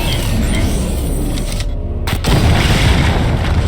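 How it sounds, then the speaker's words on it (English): A chain gun fires in Batman Arkham Knight, with loud, dense booming gunfire rumbling continuously amid heavy battle noise and a brief drop partway through. "The chain gun's not powerful enough."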